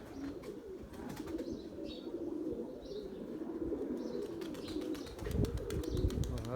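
Pigeons coo softly while bursts of wing flapping clatter repeatedly as birds take off and land nearby, over a low steady rumble.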